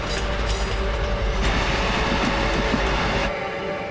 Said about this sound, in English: Debbie was placed on a train to retrace Sarah's last journey to Cananook.